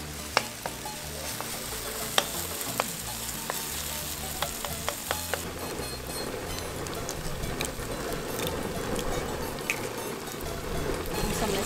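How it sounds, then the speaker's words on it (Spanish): Onion fries in a pan for chanka seca de pollo, with a continuous close sizzle and scattered sharp clicks and scrapes as it is stirred, growing slightly busier partway through. "Eso vamos a poner aquí a la cebolla donde se está retostando bien."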